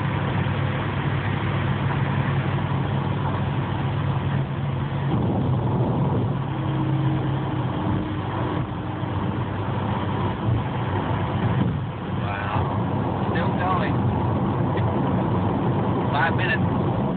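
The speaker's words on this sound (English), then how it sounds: "That is a lot of traffic." Heavy eastbound traffic is stalled on the I-580 freeway near Livermore, backed up behind an overturned truck. Engines idle and rumble in a steady, dense wash, with occasional passing vehicles and voices talking over it.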